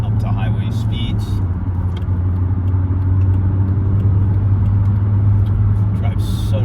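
A 1997 Mercedes E290 turbodiesel with a five-speed manual cruising at highway speed, with a steady low engine drone and road rumble throughout and a few brief higher noises near the start and end.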